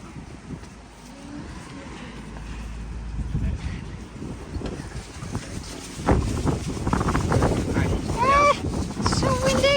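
Strong gusting wind outdoors beside an Irwin sailboat under restoration, buffeting the microphone with a rough roar that grows louder in the second half, while people talk and call out in the clip.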